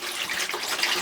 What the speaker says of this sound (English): I'm actually gonna pour a substantial amount in our shower drain